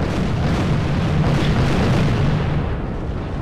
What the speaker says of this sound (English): Look at all the fucking artillery